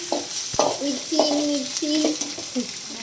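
Tomatoes and green chillies stirred in a hot pan, with a spoon scraping and clacking against the pan in irregular strokes over a soft sizzle.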